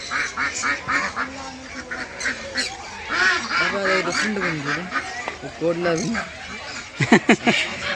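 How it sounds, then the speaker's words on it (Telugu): Birds in an aviary at Kothwalaguda Eco Park, Hyderabad, honk and quack repeatedly in a busy chorus, calls overlapping and varying in pitch, with a louder burst of honks near the end. "ఎక్కువగా ఆ బర్డ్స్ ఒరిజినల్ సౌండ్స్ ఉండడానికి ఎక్కువ ప్రాధాన్యత ఇస్తాను"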